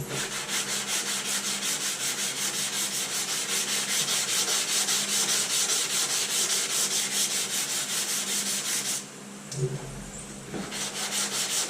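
A hand block with 80 grit sandpaper scrubs body filler on auto bodywork, a loud, steady, rapid rhythmic sanding rasp close up, briefly pausing once before resuming.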